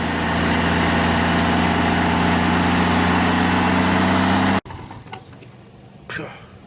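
A diesel engine fitted with a Bosch injection pump, running away uncontrollably after reassembly, roars loudly and steadily up close, then cuts off abruptly once its air is closed off, leaving quiet handling noises and a brief clunk.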